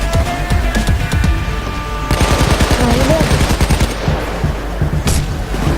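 Sustained rapid automatic gunfire rattles loudly in the heist video game Payday 2, dense bursts stacking into a continuous fusillade with occasional booms and a faint voice under the shooting.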